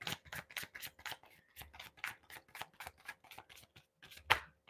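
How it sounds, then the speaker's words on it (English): A deck of tarot cards shuffled by hand, a run of quick crisp snaps and riffles in uneven clusters, close and soft, with one sharper click near the end. "I'm being told to shuffle again."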